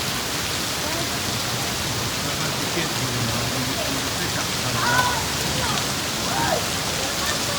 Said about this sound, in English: Look at it pouring off of this thing on the roof.